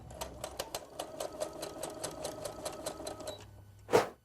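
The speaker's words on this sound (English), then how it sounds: "We're going to stitch the ends of our elastic at a 1/4 inch." A sewing machine stitches the ends of elastic in a steady, fast run of soft mechanical clicks and a whirring hum, close and fairly quiet, ending with a brief louder burst.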